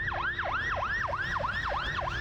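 Emergency siren wailing in a fast, repeating up-and-down sweep, loud and close, from fire engines responding to a factory fire in Pasuruan, East Java, with no voices over it.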